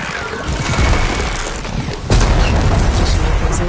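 A bomb detonates in the video game Wings of the Ten: a loud, close blast over a rumbling, crackling bed, with a sharp boom striking about two seconds in and the heavy roar continuing afterward.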